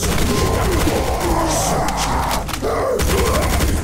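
Rapid gunfire in the video game Doom 2 with the Project Brutality mod, killing gunners. Dense, continuous loud shots and impacts fill the whole stretch with a brief dip near the end.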